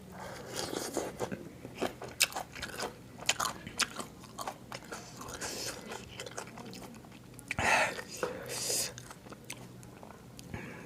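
Close, crunchy chewing and biting of wilted lettuce with large fish-sauce pickled shrimp, a steady stream of wet crunches and mouth noises throughout.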